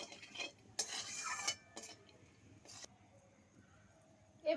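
A utensil stirring sugar into hot oil in a pan: short scraping, clinking bursts of stirring separated by quiet gaps, close and fairly soft.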